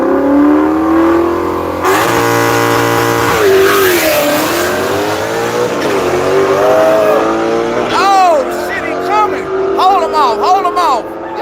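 Drag race cars launch and roar down a dragstrip at night, engines loud and close with revs climbing and shifting through gears, while excited voices carry under the noise.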